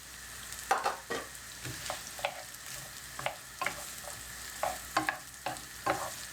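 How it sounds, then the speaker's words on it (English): Onions frying in a pan for a Madras curry, with repeated stirring scrapes and clatters over a steady soft sizzle, close and fairly quiet, no talking. "I'm going to get my onions in. I'm going to fry them up for 3 minutes"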